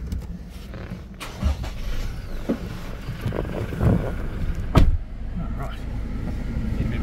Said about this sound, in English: So I'm going to jump in, we'll start him up,